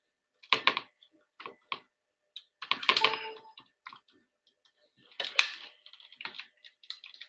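Fingers tap on a computer keyboard in short, irregular bursts of quick clicks separated by pauses. The clicks sound close and fairly quiet against an otherwise silent background.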